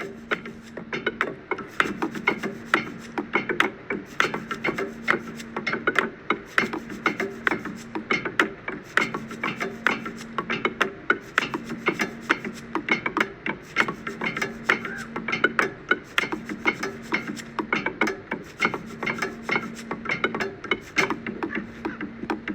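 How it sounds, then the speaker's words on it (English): Homemade band of drums, a water bottle jug and maracas playing together in a steady, busy rhythm, with repeated shaken and scraped hits over a low tone pulsing in regular bursts throughout. "You can find some drums, you can find a water bottle jug and some maracas"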